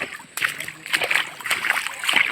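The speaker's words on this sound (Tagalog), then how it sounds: "dito na kami sa ilog." Water splashes and sloshes in a river, with uneven bursts and broadband spray close by, steady throughout and building slightly toward the end.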